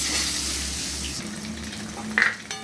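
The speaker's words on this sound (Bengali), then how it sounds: "লাল করে ভাজতে হবে ডিমটাকে।" A peeled egg seasoned with salt and turmeric fries in a kadai, giving a steady bright sizzle with faint clinks and no talk.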